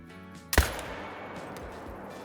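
A single sharp rifle shot cracks out in a hunting video game, loud and close, with a short echoing tail fading into quiet ambience.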